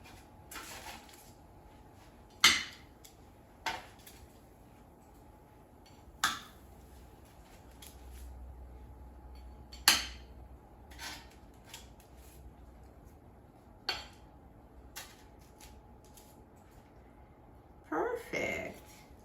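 Oven-baked turkey bacon being set onto a plate, with sparse light clicks, taps and scrapes of utensils and dishware spread out over a quiet kitchen background, one louder cluster near the end.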